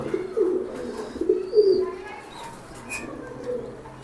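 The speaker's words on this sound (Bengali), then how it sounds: "আর এই দুইটাই হচ্ছে আমার বিদেশি কবুতর" Foreign racing pigeons coo in low, throaty bursts, a few rolling calls close by with a soft chirp or two over quiet background.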